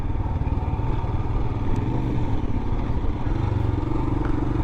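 A 2021 Royal Enfield Himalayan motorcycle makes a quick turnaround on a street ride, its single-cylinder engine chugging loudly and steadily at low speed close to the microphone.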